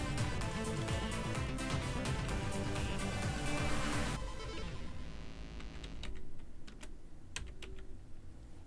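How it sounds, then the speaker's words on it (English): Fast typing on a computer keyboard: a dense run of close, crisp key clicks at first, thinning out to scattered taps toward the end, with no talk. "I'm going to type in surprise me."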